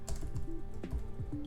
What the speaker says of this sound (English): We'll start by typing delete